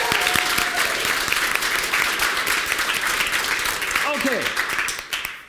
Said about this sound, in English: Give Jackson a huge round of applause.